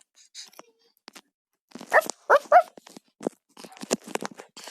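A cartoonish dog in the Toca Boca video game gives a quick run of close, high yips and barks with whimpery notes, spaced between short silences.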